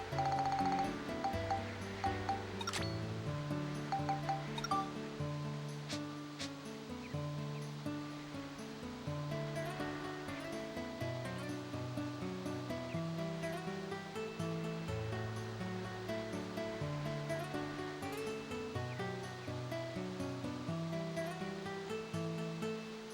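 A massive river and waterfall in the video game Dark Cloud 2 give a steady rushing roar of water that continues throughout, with tonal game music layered over it.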